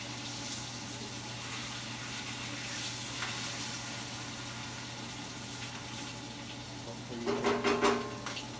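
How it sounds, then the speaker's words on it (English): A corn bread patty fries in hot oil with a continuous broadband sizzle, and a voice briefly talks over it near the end. "We're going to drop that right in the oil."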